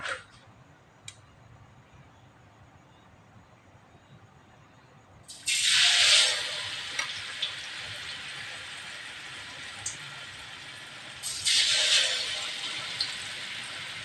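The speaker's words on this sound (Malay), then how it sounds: "Okay, jom kita goreng." Two bursts of loud, broad sizzling, each flaring up sharply and then settling to a steady hiss, like food dropped into hot oil in a pan.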